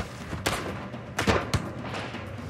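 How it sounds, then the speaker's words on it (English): Scattered musket shots ring out in a historical battle reenactment: three sharp reports in irregular succession over a muffled background. "In a flurry of musket fire, a shot injures Wolfe."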